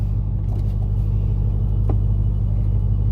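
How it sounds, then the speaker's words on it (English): A 2021 Dodge Charger Hellcat widebody with its mid muffler deleted idles in a steady, deep exhaust rumble close by, with no revving and no talk. "Alrighty, mid muffler has been deleted."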